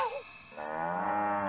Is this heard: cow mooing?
yes